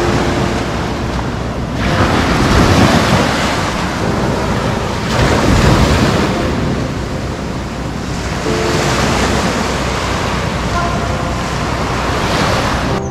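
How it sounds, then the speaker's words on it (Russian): Surf rolls onto a long Seychelles beach at high tide on Silhouette Island, with continuous loud wash and broad swells cresting every few seconds, wind buffeting the microphone throughout and no voices. "Вот так вот выглядит пляж во время прилива."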